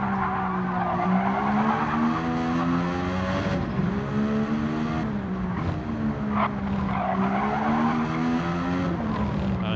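Racing car tyres squealing and skidding through corners at Catalunya during an online league race, a sustained wavering screech over a steady engine drone, continuous and fairly loud throughout.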